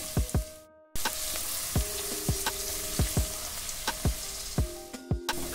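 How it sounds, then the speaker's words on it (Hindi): Long-cut carrots stir-fry in a hot pan for Schezwan fried rice, a steady sizzle broken by repeated scraping knocks of the spatula stirring the pieces at an even pace. "गाजर को हम 4 से 5 मिनट अच्छी तरह से पका लेंगे।"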